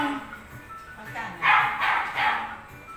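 A dog at a pet shop gives a few short barks or yips in the middle, set against steady background noise and some nearby talking.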